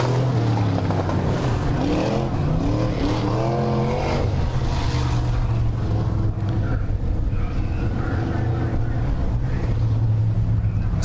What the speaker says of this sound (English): just about to wrap up hot laps here for the Douglas Distributing USRA stock cars